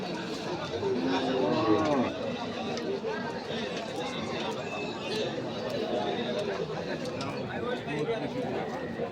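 A cow moos among livestock in a noisy crowd at a cattle market in Chittagong, Bangladesh, with people chattering and talking nearby.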